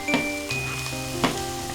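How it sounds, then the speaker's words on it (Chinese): Dried cuttlefish stir-fried in rendered pork fat in a wok for a dumpling filling gives a close, steady sizzle, with two brief clinks of the utensil against the pan. "下墨鱼干煸炒"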